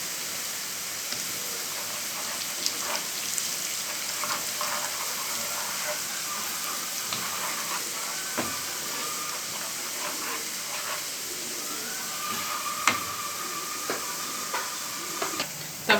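A tasha of garlic and dried coriander fries in hot oil for molokhia, giving a continuous steamy hiss and sizzle with scattered small pops and light stirring clinks.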